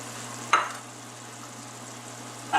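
Margarine sizzling in a hot pan as stuffed mushroom caps go in, giving a steady soft frying hiss broken by two brief sharp clatters, with no talking.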